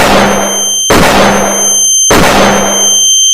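Gunfire in a Roblox horror video game: three loud, sharp shots spaced about a second apart, each leaving a bright ringing tail, close and with no talk over them.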